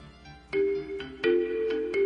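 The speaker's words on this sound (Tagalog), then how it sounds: "muling tumunog ang big red phone" A big red phone rings in a house setting, sounding repeated sharp electronic ringtone bursts with a sustained tone between them, loud and close, with no voices over it.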